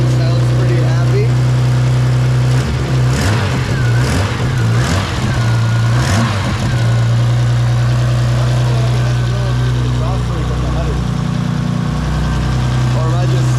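A BMW E30 fitted with an S38 engine, an abandoned project car, idles steadily with a deep, constant hum, while people talk nearby over the running engine.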